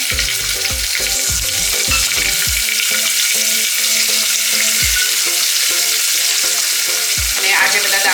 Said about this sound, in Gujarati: હિંગ, આ જે સુરતી પાપડી અને વાલોર છે એ નાખી દઈશું પહેલા